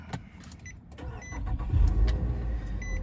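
A Nissan Altima 2.5 SL starts up with a brief clicking and whirring crank, after which the engine catches into a close, steady idle rumble that builds and holds; no one speaks.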